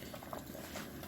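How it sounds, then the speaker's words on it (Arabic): Fava beans boil in a pot of water, giving off a faint, steady bubbling and seething that holds evenly for the whole moment with no voices. "بصوا يا حبايبي الفول بقى لما غلي"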